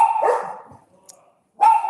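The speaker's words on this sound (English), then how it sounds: "you're making the dogs bark, Richard." A dog barks loudly nearby, a couple of sharp barks separated by a short quiet gap, with no talking.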